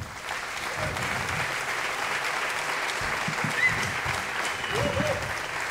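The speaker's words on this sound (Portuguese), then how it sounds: "à exceção do nosso baterista, para quem peço mais uma salva de palmas." Concert audience in a cultural centre applauding a drummer, a steady sustained wash of many hands clapping throughout, with faint low voices underneath.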